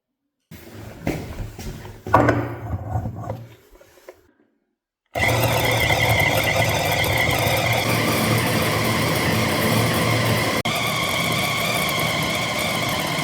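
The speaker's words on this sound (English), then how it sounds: "Put it through the meat grinder until you get small granules, not a paste." An electric meat grinder churns meat into small granules, its motor drone loud and steady after a few seconds of brief handling clatter.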